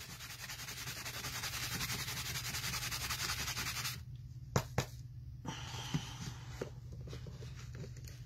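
Foil being rubbed onto tumbler tape, a continuous close rasping rub for about four seconds followed by a few light taps and softer scuffs.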